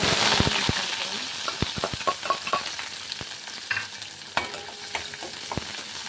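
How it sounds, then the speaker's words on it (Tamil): Mustard seeds and chopped onion sizzle in a hot pan for a Tamil curd curry, with a steady hiss broken by sharp pops and the clatter of stirring, all close up. "இது நல்லா ஃப்ரையாக ஆகட்டும் கோல்டன் ப்ரௌன் கலரில் வரட்டும்"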